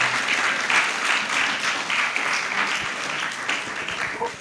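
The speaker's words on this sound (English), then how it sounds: "Please, another round of applause to her" A seated audience at a book launch claps in a dense, steady burst of applause that keeps an even level throughout.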